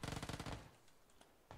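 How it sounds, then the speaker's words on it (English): Rapid automatic gunfire from the video game PUBG: a dense burst of quick shots for half a second, then a few isolated cracks after a pause, loud and close with no talking. "It's like you have to shoot him so many times to kill him."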